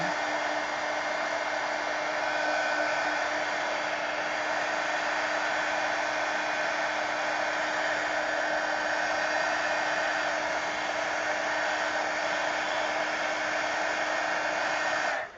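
A hair dryer runs steadily, loud and close, with a constant whining hum and airy rush as it dries layered paint on an art journal page, then cuts off at the end.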